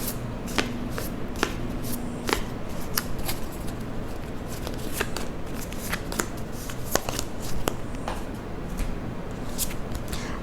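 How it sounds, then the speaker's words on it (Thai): Lucky-number playing cards are shuffled and drawn from a deck for a Libra horoscope reading, giving steady papery riffling with sharp card snaps scattered throughout, close and fairly loud, with no talking. "ไพ่เลขนำโชคเนี่ยจะหยิบให้ทั้งหมด3 ใบ"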